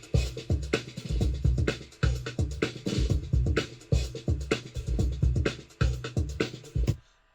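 A group of electronic drums with no kick drum plays in a dance-track production, a tight looping pattern of crisp hits and snares that repeats evenly for about seven seconds and then cuts off abruptly.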